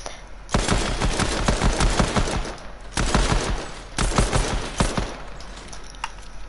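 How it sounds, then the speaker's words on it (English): Pistol gunfire in a creative-mode video game crackles in rapid, dense bursts with brief pauses, loud and close throughout. "Yeah, let's try the pistol."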